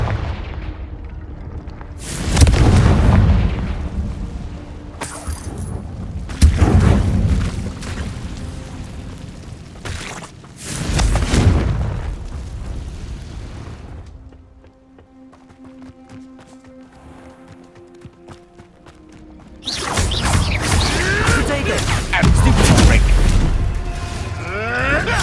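Explosive spell blasts in Hogwarts Legacy gameplay: several loud booming bursts land amid battle commotion, with a quieter humming stretch in between, and spoken spell calls are heard in the mix.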